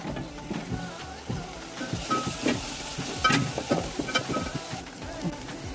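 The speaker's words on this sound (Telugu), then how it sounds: "ఒక 2 స్పూన్స్ ఆయిల్ పోసుకొని ఒక ఉల్లిగడ్డ 4-5 పచ్చిమిర్చి వేసి కొంచెం వేయించుకోవాలి" Onion and green chillies fry in a few spoons of oil for a chicken curry, a steady close sizzle broken by irregular stirring scrapes and clatters throughout, with no talking.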